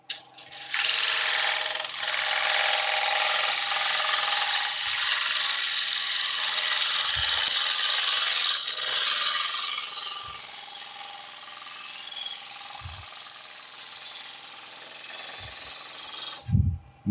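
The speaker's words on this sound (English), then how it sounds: "So let's go back to a nice sharp gouge." A sharp gouge cuts into a spinning wooden platter on a lathe, giving a loud continuous hissing scrape that eases off after about ten seconds, with occasional dull knocks.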